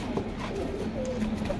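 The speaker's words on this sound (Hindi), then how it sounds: "कबूतर, देखो भाई कबूतर देखो" Pigeons at a market sale coo softly in short low murmuring calls, close by, with someone talking over them.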